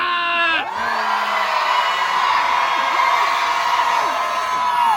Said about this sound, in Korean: 그럼 전방에 5초간 함성 발사!